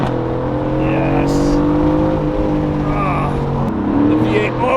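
A Porsche V8 engine pulls hard under acceleration, a steady, rising drone heard from inside the car, with a voice speaking briefly over it.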